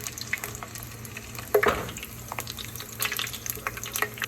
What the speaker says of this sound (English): You want the garlic to be turned golden brown. So I'm just tilting the pan a bit so that it gets enough heat